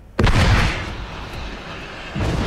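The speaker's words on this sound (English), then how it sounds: "Oh, that's a big cannon." A big cannon fires in the video game Forts, one loud close boom that rolls into a long decaying rumble, then a second thud starts near the end.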